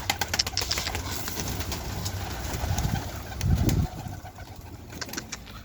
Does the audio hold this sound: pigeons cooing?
yes